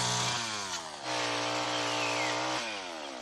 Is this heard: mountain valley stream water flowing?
no